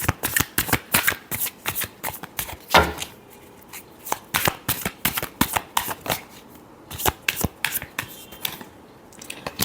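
Tarot cards being riffled and shuffled by hand, a rapid run of crisp papery flutters and slaps in quick bursts, close and clear with no talking.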